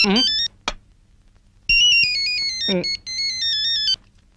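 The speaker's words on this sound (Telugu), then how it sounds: "ఫోన్." An electronic phone ringtone plays a bright, repeating melody in two bursts separated by a short pause, loud and close.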